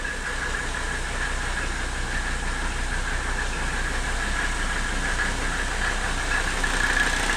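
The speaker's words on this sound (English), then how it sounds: "there's that beautiful clatter from this old school Mercedes diesel" An old Mercedes 300D with a mechanical diesel engine idling, a steady, loud, close clattering rumble with an unchanging rhythm throughout and no voices.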